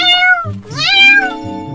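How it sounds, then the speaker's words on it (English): Cartoon kittens meow in a quick series of loud, close, high-pitched cries, several overlapping calls within under two seconds. "look at all these kittens"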